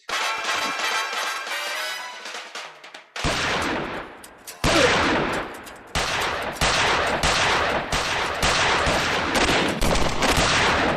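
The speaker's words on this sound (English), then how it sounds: "You wouldn't shoot Shirley." Gunfire in a film noir drama scene comes as a series of sharp, loud reports spaced about a second apart, following a stretch of tonal music.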